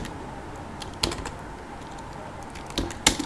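A handful of computer keyboard presses land as isolated clicks, with a louder clack near the end, close up in a quiet room.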